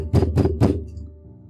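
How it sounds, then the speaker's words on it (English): Three loud, heavy pounding knocks on a farmer's wooden door, evenly spaced in quick succession, each a deep booming thud, followed by a fading low rumble with no voices. "They furiously pounded on the farmer's door."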